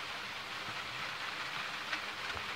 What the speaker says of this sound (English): Heavy rain, lightning like this.